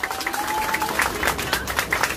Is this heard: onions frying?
no